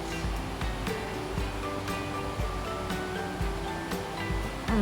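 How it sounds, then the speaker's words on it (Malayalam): Prawn coconut curry bubbles steadily in a covered pot, a dense continuous boiling rumble with soft popping and occasional sharper ticks, fairly quiet and without talk. "നന്നായിട്ട് തിളയ്ക്കുന്നുണ്ട്."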